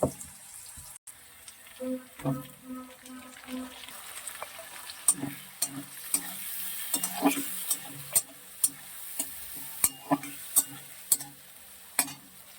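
A tomato, ginger, onion and green chili paste fries in a pot, with a soft sizzle broken by repeated sharp clinks and scrapes of a stirring spoon at a steady, close pace.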